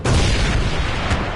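Loud, sustained booming blast of artillery fire in the VR strategy game League of War VR Arena, a dense explosive rumble filling the whole moment with a second swell near the end.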